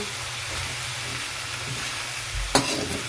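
String beans, pechay and ground meat stirred in a hot pan, with steady close sizzling and frying, scraping stir strokes and one sharper clatter near the end.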